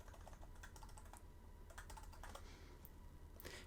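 Computer keyboard keys tapped in quick, irregular bursts while logging back into a remote SSH session in MobaXterm, a steady close clatter with no voice.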